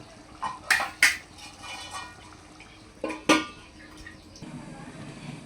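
Metal lid set onto a pot of simmering potato and egg curry: a few sharp clanks and scrapes in quick succession, then a second pair of clatters later, close and fairly loud with no talking.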